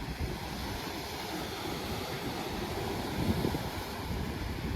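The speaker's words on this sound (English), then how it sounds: "But the waves are too chill right now." Calm ocean waves wash steadily along the shore at Acadia National Park, a continuous broad rushing surf mixed with wind buffeting the microphone.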